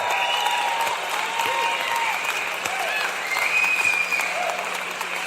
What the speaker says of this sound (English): And another round of applause for all the teams gathered here right now.